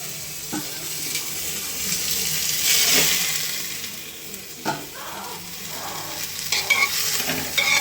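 Potatoes and cauliflower fry in a pan with a steady sizzle, while a spatula scrapes and stirs in intermittent strokes close by.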